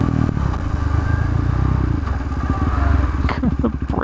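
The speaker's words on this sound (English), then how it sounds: "The brake sounds so bad." A KTM RC390 motorcycle riding with a steady engine drone, then a harsh, grinding brake squeal and scraping clatter rising near the end, close and loud throughout.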